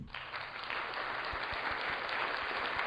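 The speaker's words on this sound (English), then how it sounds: "let's give Kayla a big round of applause." A small audience claps steadily, a fairly quiet, even patter of applause lasting the whole moment with no voices over it.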